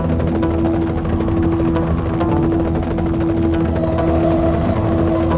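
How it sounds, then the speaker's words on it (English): An armed helicopter in the Knight Rider 2 video game drones loudly and steadily with a throbbing engine hum and rotor vibration, constant and close throughout. "that helicopter is heavily armed"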